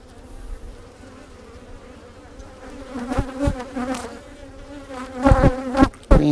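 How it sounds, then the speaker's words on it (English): Honey bees in a beekeeper's hive in Texas, a continuous buzzing hum that swells louder toward the end as bees fly close past. "Some calm bees."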